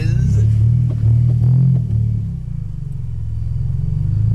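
Deep, loud exhaust rumble from a 2003 Honda Civic EX manual coupe, rising briefly as it revs and then settling to a lower drone, heard up close.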